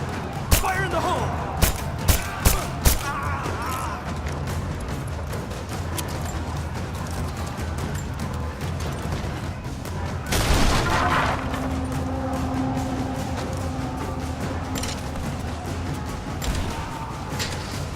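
Gunfire and explosions in the Rise of the Tomb Raider video game: a rapid burst of sharp shots, then a heavy boom, followed by continuing rumble and distant firing, with voices speaking over parts of it.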